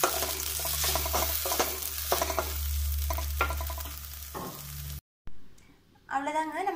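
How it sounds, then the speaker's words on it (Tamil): Okra and onion sauté in a hot pan with a continuous sizzle and scraping stirs, broken by a brief silence before a voice speaks at the end. "வெண்டைக்காயை வந்து நல்லா அந்த ஆனியனோட வந்து நல்லா சாட் பண்ணிவிடுங்க"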